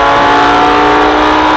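Lamborghini Huracan on the Red Bull Ring race track at full throttle, giving a loud, steady high-revving engine roar held close and continuous throughout.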